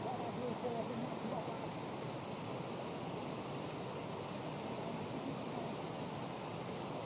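The waterfall at Bagha Sarahan roars as a steady, broad rush of falling water, constant and fairly distant, with faint voices beneath it.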